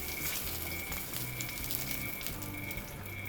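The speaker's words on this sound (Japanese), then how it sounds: "しっかりとこのフライパンにちょっとこすりつけながらですね油の面を焼いていきます" Fatty side of a pork steak sears in a hot frying pan with garlic, producing a steady dense sizzle and crackle close up, continuous throughout with a faint high whine, no talk.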